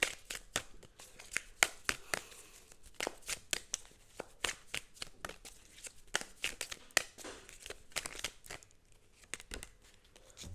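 Tarot cards are shuffled and drawn by hand, a close run of quick papery riffles, flicks and slaps in irregular bursts throughout, fairly quiet overall.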